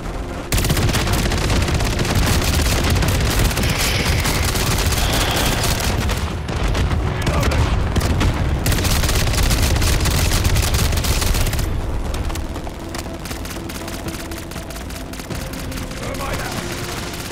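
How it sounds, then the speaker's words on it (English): Sustained rapid gunfire from a sentry gun in a video game battle against a horde of manglers, loud and dense for most of the stretch, thinning slightly toward the end, with someone talking over it. "I got a fucking sentry gun shooting"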